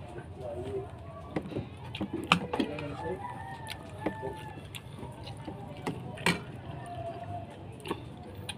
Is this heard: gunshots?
no